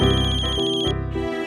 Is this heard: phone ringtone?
yes